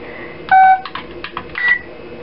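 Electronic beeps from a home door alarm keypad as a code is entered: a few short, clear tones at different pitches, one held slightly longer, with brief gaps between key presses, close and moderately loud.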